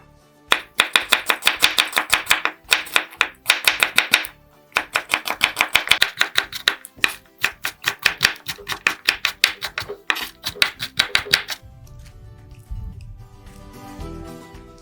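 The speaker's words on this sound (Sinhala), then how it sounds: "ඊළඟට සුදු ලුණු ටික චොප් කර ගන්නවා." Garlic chopped with a knife on a board while making vegetable pakora, rapid sharp knocks in quick bursts separated by brief pauses, close and crisp, then fading into softer handling noise at the end.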